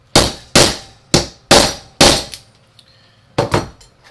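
Sharp hammer whacks on a Harbor Freight grommet kit hole cutter punching through material, five evenly spaced ringing strikes followed by a short pause and two more quick blows, loud and close with no talking.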